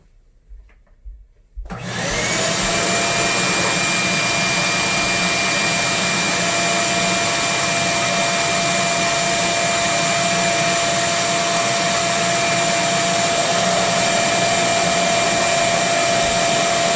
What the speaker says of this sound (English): I'll drill a hole real quick